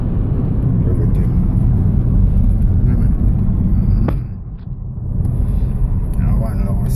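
A car drives back into town, its engine and road rumble loud and steady throughout, briefly easing off before resuming, with some faint background activity.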